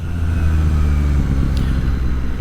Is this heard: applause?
no